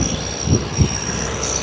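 A Mahindra 275 tractor engine runs with a steady low rumble and a thin high whine, close and fairly loud, with a couple of brief knocks in the drone.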